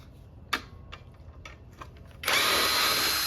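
A new cordless impact driver removing stuck, rusty bolts from an edger. Faint ticks and taps lead into a loud, steady rattling hammer of the tool that runs to the end.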